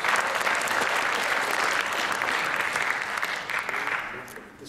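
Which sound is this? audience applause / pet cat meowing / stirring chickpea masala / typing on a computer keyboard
audience applause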